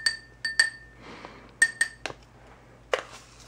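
A spoon clinks against a glass while stirring a sea salt spray mix, a handful of bright ringing taps in an irregular rhythm, close and clear with quiet between strikes.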